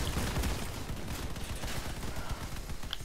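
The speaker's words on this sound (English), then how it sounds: "Don't worry, I'm shooting at him." Vehicle-mounted weapons in Crossout fire a dense, continuous barrage of rapid shots, a steady rattling fusillade with low thumps throughout.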